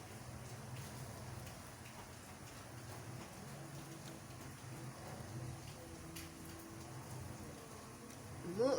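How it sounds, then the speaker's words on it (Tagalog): Steady rain falls in a continuous hiss, with a low hum in the background and a brief rising sound at the very end. "Ulan na naman."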